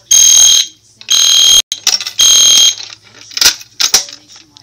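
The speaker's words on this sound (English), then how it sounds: "So when you pull it, the alarm goes off." A 27-volt fire alarm horn strobe, set off by a pull station, blaring in loud repeated bursts with short gaps, the later blasts shorter and more ragged, close and piercing.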